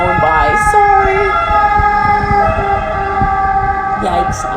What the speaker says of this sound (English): apologize for the ambulance going by